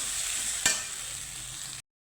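Spices sizzle and get stirred as they fry with garam masala for a vegetarian papaya dish, a steady close hiss broken by one sharp spoon scrape, then cut to silence.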